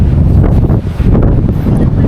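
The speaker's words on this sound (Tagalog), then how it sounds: "Grabe, lakas talaga ng hangin." Strong wind buffeting a microphone at the Pantabangan lake view deck, a loud, constant low rumble and roar that fills the whole stretch without pause.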